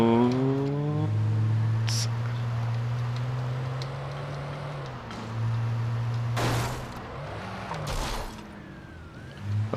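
A car driven in the video game Alan Wake: a loud engine drone that dips and shifts in pitch, with a couple of sharp crashing bursts near the end, no speech.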